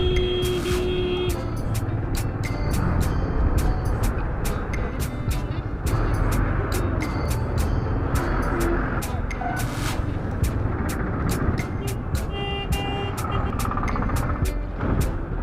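Busy city traffic in Siliguri is heard from a Bajaj Discovery motorcycle, a dense wash of engines and trucks with repeated sharp beeps and horn blasts throughout, moderately loud and close.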